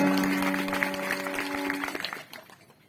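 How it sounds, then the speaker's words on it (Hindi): Listeners at a village religious discourse in Raisen district clap together, a dense, moderately loud patter of hands beneath a sustained tonal hum that stops midway, the applause then thinning out and dying away. "ताली बजाना पड़ेगा"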